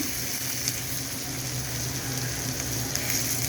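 Hot oil sizzles steadily in a pan before onions go in for a Bengali magur fish bhuna, a dense, even, close frying hiss that holds constant throughout.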